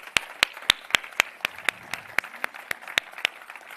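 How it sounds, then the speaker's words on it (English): A small audience at the G20 TechSprint 2025 awards gives a round of applause for the winners: a dozen or so sharp, fairly evenly spaced claps, close and distinct, standing alone without talk. "I'm going to ask us to just give one more round of applause for all of our winners"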